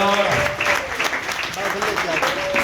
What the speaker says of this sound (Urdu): تو کلام کے لیے زودہ تالیاں.